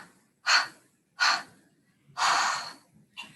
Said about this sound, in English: and then stagger the breath out.